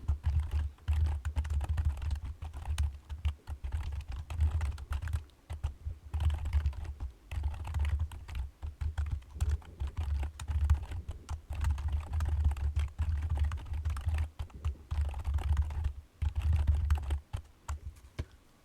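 Steady typing on a computer keyboard while writing code for a trading program, rapid clustered keystrokes clicking close and clear, with short pauses between bursts and no talking.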